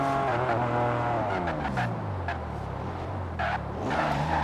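A BMW M Coupe's three-litre twin-turbo straight-six revs in a driving video game, a loud continuous engine drone with rising and falling harmonics as gears shift, with some tire squeal mixed in.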